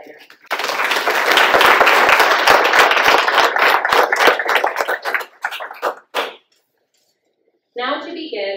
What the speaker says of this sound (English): Let's have one last round of applause for Ms. Snyder.